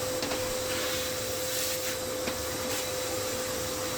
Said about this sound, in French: Un petit coup d'aspirateur, ça va faire du bien.